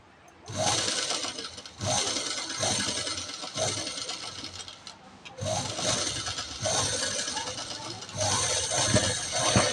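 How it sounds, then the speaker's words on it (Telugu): Sewing machine stitching a blouse seam, running in several loud bursts separated by short pauses, with faint scraping of fabric handling between runs. "అలాగే రెండో వైపు కూడా స్టిచ్ అనేది వేసేసుకొని దీన్ని స్టిచ్ వేసుకొని రావాలి"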